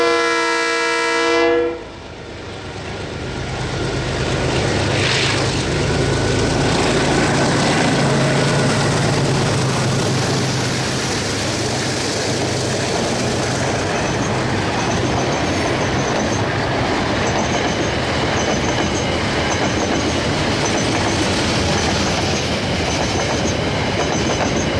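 KiwiRail DX class diesel locomotives (DXC, DXB) and a DSG shunter hauling a train on the Main South Line in New Zealand. A brief horn blast opens, followed by a loud, steady engine roar and rolling wheel noise close by.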